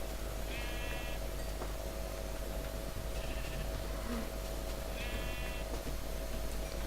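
Sheep bleating in a video game over a steady droning background, with three short bleats spaced a few seconds apart, moderately loud, no one talking.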